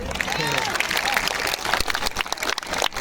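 Audience clapping at a chilly outdoor Hindi comedy poetry recital, a dense burst of applause that thins into scattered claps over a few seconds.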